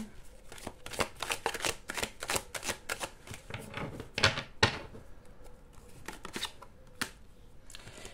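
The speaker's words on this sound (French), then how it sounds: "je vais aller prendre quand même quelques petites cartes de tarot" Tarot cards are shuffled and drawn by hand, a close, uneven patter of papery flicks and snaps with a few sharper slaps, quiet between bursts.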